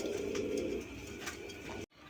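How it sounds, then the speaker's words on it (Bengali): A pair of red old-breed Rasgolla pigeons coo in a soft low rolling murmur, close by and strongest at the start. The sound cuts off abruptly just before the end. "এখানে একজোড়া লাল কালারের রাসগোল্লা কবুতর আছে, পুরান জাতের"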